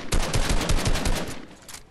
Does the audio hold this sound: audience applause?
no